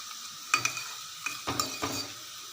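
Oil with curry leaves sizzles and bubbles steadily in a pan, with a few clinks and scrapes of a spoon stirring and tapping against the pot.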